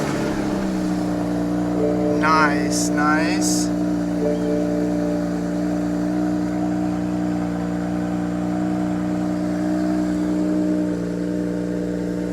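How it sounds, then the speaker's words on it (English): BMW E92 engine starting and settling into a steady idle right after an MHD tune flash, a close, continuous low hum with a brief rise near the start; a person briefly speaks over it. "now we can turn on the car"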